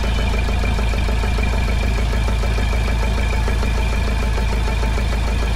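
A car engine held steady at about 2000 RPM during a sensor check, giving a loud, continuous even hum with a faint regular pulsing throughout, close by and with no voices.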